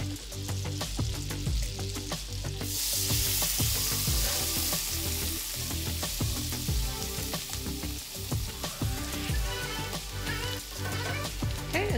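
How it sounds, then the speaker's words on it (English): Minced garlic is stirred through melted butter in a cast iron skillet, giving a dense, loud sizzle with busy scraping strokes throughout. The sound is close up, with no speech. "I'm also gonna put some minced garlic in there. We're gonna stir that around for just a second"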